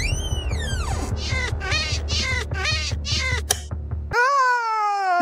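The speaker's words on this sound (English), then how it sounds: "What the hell are you doing to Joe's cat?" A cat meows loudly and repeatedly, a series of rising and falling wavering cries up close, ending on a long drawn-out yowl over a low background hum.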